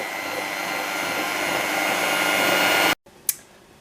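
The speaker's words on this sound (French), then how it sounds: "Le tiers restant de la ganache, je le monte au batteur jusqu'à ce que le mélange change de couleur." Electric mixer whipping chocolate ganache: a steady high motor whir holding for about three seconds, then cutting off abruptly, followed by a quiet tap on the bowl, no talk.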